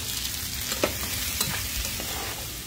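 Onions, mushrooms and garlic stir-fried in a pan, giving a steady close sizzle and hiss with a few soft stirring scrapes, no talking.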